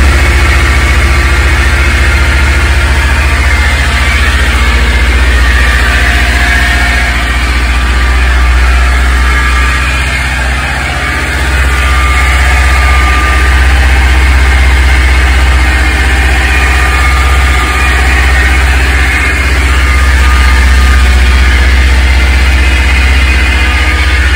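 A Kawasaki Ninja 300 motorcycle engine idling, a steady, loud, close low rumble that holds without revving, with no voices over it.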